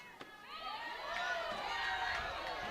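Crowd at a college softball game between Texas A&M and Ole Miss, a broad sustained roar of voices and cheering that swells and holds, heard at a distance in the stadium.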